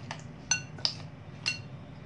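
A metal spoon clinks against a bowl while mixing a spoonful of butter with chocolate chips for chocolate walnut fudge, making four sharp, separate taps over a low background hum.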